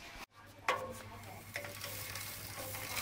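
A 2020 Giant Speeder road bike's 14-speed drivetrain, with a 7-speed rear cassette and double chainring, whirs quietly as the cranks spin, a soft steady ticking freewheel hum with a faint click or two of shifting.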